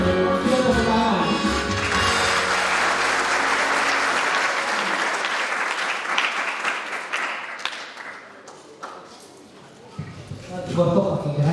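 Applause from a group of children and youths at an Easter camp runs loud and dense for several seconds, thins out and dies away, then talk and movement return near the end.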